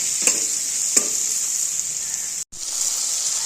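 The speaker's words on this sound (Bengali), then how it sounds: "এবার এর সঙ্গে সব কটাই সবজি আরো একটু ভালো মতো ভেজে নেব।" Vegetables with tomato, capsicum and green chillies frying in a pan for masala bhindi, a steady bright sizzle broken by a couple of soft stirring scrapes and one brief dropout.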